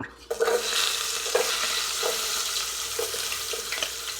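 Chopped garlic fries in a pan with a steady close sizzle, broken by several soft stirring knocks and scrapes.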